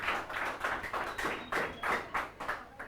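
Students in a physics lecture classroom clap in a quick, rhythmic unison pattern, about ten sharp close claps in under three seconds, with no talking.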